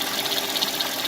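A Mercedes M112 V6 in an ML430 runs with a steady ticking and rattling timing chain noise, heard close up over the engine hum during a brief stretch of idling.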